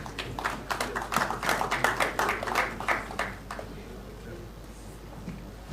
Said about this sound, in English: That round of applause sounds very, very weak.